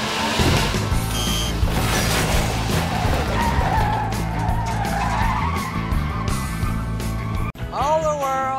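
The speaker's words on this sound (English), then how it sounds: "You got them spinning tires, do you?" Car tires spinning and squealing in a movie scene with a 1969 Dodge Daytona and a 1967 Plymouth GTX convertible, a loud sustained skid with engine roar under a music score, ending in a sharp rising squeal.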